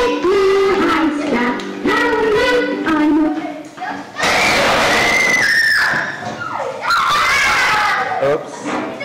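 Young children in an ESL classroom playing musical chairs shout and squeal loudly in bursts, with excited cries and chatter close by.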